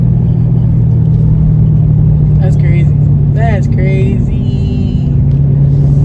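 A loud Dodge Charger Scat Pack engine rumbles steadily at idle, a deep constant drone, while someone speaks briefly over it.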